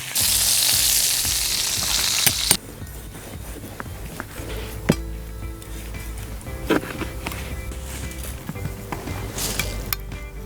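Veal tendron sizzling in butter in a pan, a steady loud fry that drops to a quieter crackle after a couple of seconds, with occasional clinks and pops.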